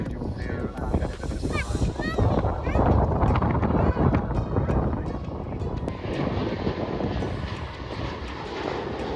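A fixed-wing airplane near Manchester Airport roars with a loud, broad engine rumble that holds steady and then eases slightly, with geese honking and people talking nearby.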